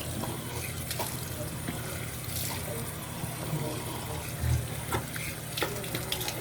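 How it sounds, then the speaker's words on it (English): A tap pours steadily into a sink during a rinse-off in a home cleaning and skincare routine, a continuous close splash with a few brief louder bumps. "Rinse it all off."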